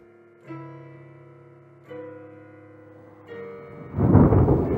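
Thunder from a lightning flash, sounding as a deep, powerful rumble that swells near the end, preceded by three sustained tonal swells, with no voices.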